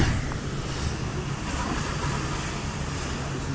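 High-pressure rinse inside an automatic car wash, a steady loud hiss of spraying water blanketing the car, continuous and even throughout with no voices.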